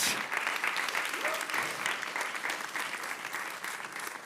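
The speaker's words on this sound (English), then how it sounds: "big round of applause for Cohort 10" A demo day audience gives a round of applause for a newly welcomed startup cohort, a steady, fairly distant spread of clapping with a voice speaking over it.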